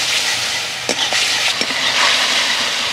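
Ginger and green chili paste stirred and fried in a little oil, a steady close sizzle with a few scraping stirs of a spatula against the pan, no talking.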